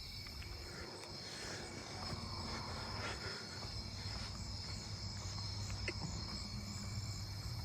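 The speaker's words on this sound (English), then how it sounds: "Southern ground cricket." A southern ground cricket chirps at night in a neighbourhood, a faint high continuous trill steady in the background alongside other insect song and low ambient hum.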